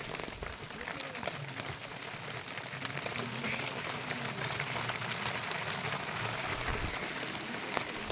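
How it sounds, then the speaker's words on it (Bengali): Small hail pellets and rain falling steadily outdoors on a mountain trail, a dense continuous patter and hiss at even loudness throughout, with no voices. "শিলাবৃষ্টি যেটাকে বলি, ছোট ছোট বরফ"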